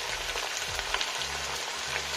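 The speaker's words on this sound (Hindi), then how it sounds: "2 मिनट सभी को इसी तरह चलाते हुए भूनेंगे।" Tomatoes fry in a pan over a medium flame with a steady close sizzle, and a spoon scrapes and stirs them in short repeated strokes.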